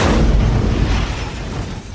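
A car blown up by a gas cylinder inside it explodes in a loud, heavy blast that rumbles and roars, its deep boom filling the whole moment before slowly fading.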